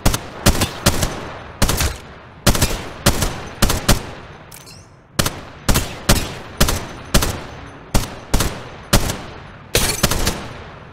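Gunfire in a ranked-match video game: evenly paced single shots, about twenty in total, each a loud, close crack with a short decaying tail, in quick rhythmic groups separated by brief pauses, no talk.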